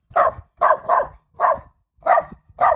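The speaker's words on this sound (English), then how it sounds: "We just got attacked through the fence by a really vicious, cute little dog." A small dog barks through a fence at close range, giving six sharp, separate yaps in quick succession with short silent gaps between them.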